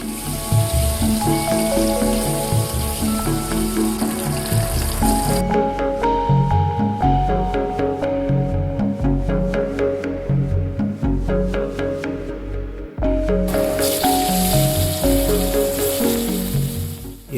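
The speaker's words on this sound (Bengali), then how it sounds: "রুই মাছগুলোকে গরম তেলে লবণ ও হলুদ দিয়ে ভালো করে ভেজে নেব আমরা" Rohu fish fries in hot oil with salt and turmeric, a steady sizzle heard beneath loud, continuous background music that nearly masks it.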